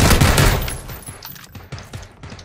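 Rapid gunfire from PlayerUnknown's Battlegrounds: a loud, dense burst at first, then it thins into separate shots that trail off and echo, with no voices.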